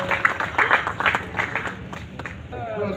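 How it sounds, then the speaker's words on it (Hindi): A crowd at a Holi poetry event claps to welcome a comic poet, a short uneven patter of handclaps with a few louder bursts and some voices mixed in, fading toward the end. "एक बार जोरदार तालियां बजा करके आप लोग स्वागत करिए।"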